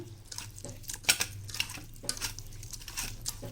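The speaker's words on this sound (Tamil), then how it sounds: "கையில் நல்லா இப்படி பிசைஞ்சிக்கலாம்" Hands kneading semolina dough in a kitchen, a series of soft wet squelches and slaps at an irregular pace, close and fairly quiet, with no talking.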